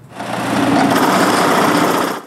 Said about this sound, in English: I drill a hole in the middle of this scrap piece